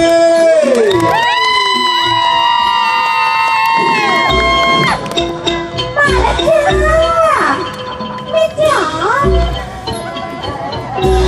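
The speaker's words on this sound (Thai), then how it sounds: "ขอเสียงปรบมือ แจ็คเก้" An audience at a Thai stage show cheers and claps for a performer, with loud whoops and shouts, children's voices and music tones running through the whole stretch.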